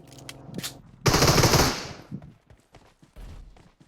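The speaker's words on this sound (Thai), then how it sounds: "อ่ะเขายิงมาอ่ะ" Gunfire in the PUBG shooter game: scattered single shots, then a loud sustained burst of automatic fire lasting about a second, followed by a few fainter shots.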